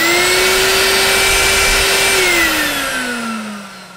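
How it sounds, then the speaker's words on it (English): A creature in the Wii game Top Shot Elite gives off a loud, steady whirring drone like a vacuum cleaner motor, which dips in pitch and slowly fades toward the end. "Why do you sound like a vacuum cleaner?"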